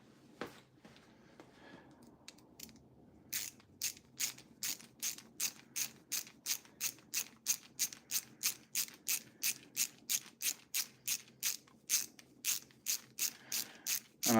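Repeated ratcheting clicks from a screwdriver driving screws into a Ghostbusters proton pack build, a steady evenly spaced series of sharp ticks running for most of the stretch after a brief quieter start, close and clear with no talking.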